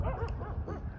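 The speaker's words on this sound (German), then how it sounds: "da hinten tobt ein Hundekampf" Several dogs fight outdoors in a wadi, a dense close tangle of yelps, yips and snarling barks with whimpering rising and falling over a single second.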